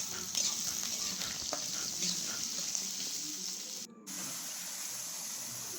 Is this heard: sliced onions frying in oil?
yes